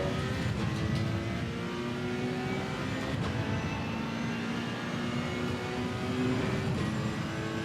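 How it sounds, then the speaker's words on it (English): Ferrari 488 engine in the racing game Assetto Corsa Evo, a steady high-revving wail with rising gear pulls, continuous and loud with no talking. "Always did like the sound of the Ferrari 488."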